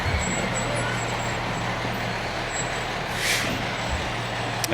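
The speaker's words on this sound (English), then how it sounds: "This is the way that I like to see those fire trucks, not headed to a fire, but just on display." Fire trucks from the Marshall Fire Department rumble past in a homecoming parade, a steady low engine drone with a brief hiss of air brakes midway, heard amid general outdoor street noise.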